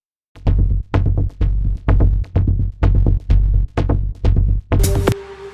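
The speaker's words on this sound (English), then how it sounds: "So that was the sound of that bass line with some filter verse" A deep house synthesizer bass line with filter and reverb pulses in nine even, punchy notes with a steady rhythm, loud and upfront, followed by a brief bright burst and a held tone before stopping.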